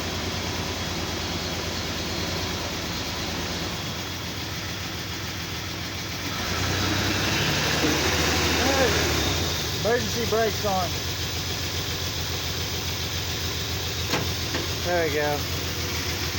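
An old Dodge car, sitting unused for about three years, idles and then revs as it moves under its own power, a steady close engine drone rising midway, with people talking over it.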